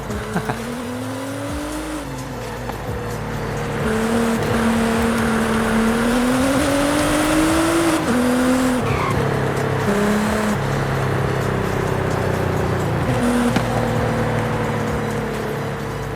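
Nissan GT-R R35 with its VR38 V6 engine driving hard, a loud sustained engine drone rising and falling in pitch as it accelerates and shifts, heard alone up close.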